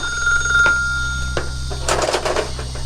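A household telephone rings with a bright, steady bell tone, followed by a clatter of handling sounds as the receiver is picked up indoors.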